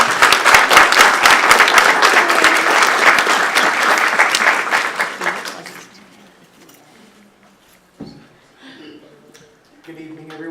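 A room full of people at a college student success event applauds steadily and loudly for several seconds, then the clapping fades out into quiet room tone with a few faint stray sounds.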